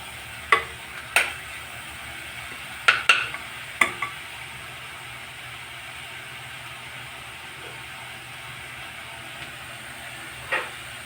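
Salted dill greens (shepu bhaji) are stirred in a frying pan, giving a few sharp scraping knocks of a spatula over a faint steady sizzle, with no talking.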